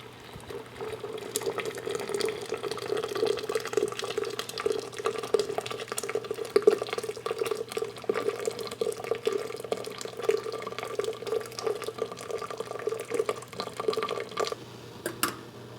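Homemade apple juice drains steadily from a hose into a jar, a continuous close trickle and splash of liquid running for the whole stretch with no talk over it.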